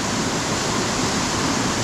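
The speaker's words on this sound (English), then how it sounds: "that's looking down from the top of the waterfall" Waterfall at Harmby seen from the top, a steady, dense roar of falling water that fills the whole clip with unbroken broadband rush and no voices.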